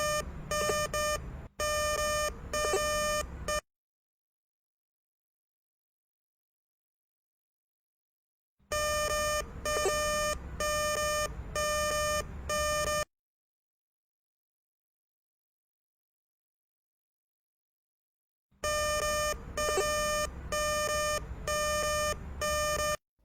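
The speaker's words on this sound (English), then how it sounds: "When a precious metal signal is detected, the device will make a sound as the precious metal level indicator moves." GER Detect Titan 400 gold and metal detector sounding its precious-metal signal tone: three bursts of steady electronic beeping, each a few seconds long, separated by silences, clear and close.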